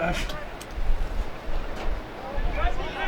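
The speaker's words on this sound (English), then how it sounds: "Best spot to be though, where it's windy." Steady gusting wind buffets the microphone in uneven surges at a country football grand final, with a low rumble beneath and people talking in the background.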